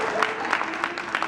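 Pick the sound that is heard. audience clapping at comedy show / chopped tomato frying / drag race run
audience clapping at comedy show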